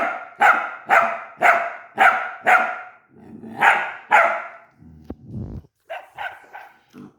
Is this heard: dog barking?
yes